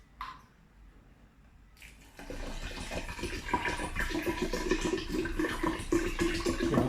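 Spring water poured from a bottle into a glass jar, a steady close splashing stream that starts after a quiet pause and keeps running loud to the end.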